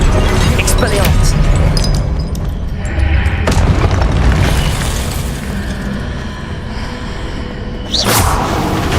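Loud magical blast from the Expelliarmus spell in Hogwarts Legacy, a booming burst with a whooshing tail amid dense game effects, followed by another sharp surge near the end, with a voice talking over it.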